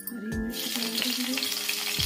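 Green chillies and cumin seeds hitting hot desi ghee for sabudana khichdi, a close crackling sizzle that swells after a sharp opening pop, with faint metallic clinks of a utensil against the pan.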